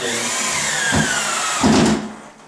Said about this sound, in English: You locate your stud mark, come up to the top, and simply put 2 screws directly into